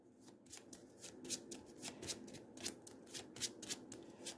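Marvel Champions playing cards being shuffled in quick riffled bursts, about a dozen crisp rapid flutters in a steady rhythm, close and fairly quiet.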